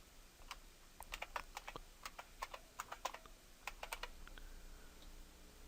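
A username and password are typed on a computer keyboard, a quiet, irregular run of crisp close keystrokes in short bursts, then a near-silent pause at the end.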